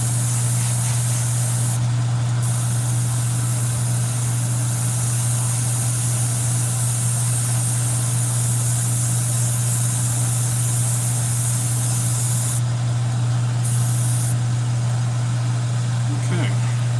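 Airbrush or spray gun painting a model inside a spray booth, a steady continuous hiss with a loud constant hum from the booth fan running throughout, near and unbroken for the whole stretch.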